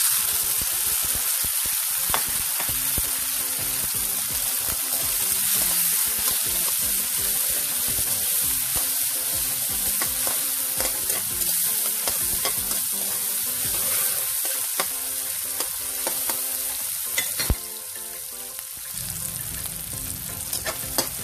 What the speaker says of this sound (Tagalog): Ayan, naigisa natin mabuti yung ating mga kamatis, bawang, sibuyas.